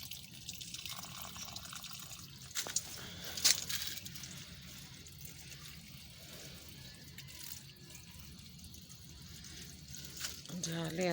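Water trickles and drips steadily as it runs from one plant pot into another while plants are watered, a soft continuous wet flow with occasional small splashes.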